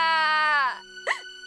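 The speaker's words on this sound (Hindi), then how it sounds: "नन्हे भालू के रोने की आवाज से गोल्डीलॉक्स की नींद टूट गई" A voice acts out a little bear crying in a children's telling of Goldilocks and the Three Bears: one long, wavering, drawn-out wail that trails off, followed by a short, rising sob.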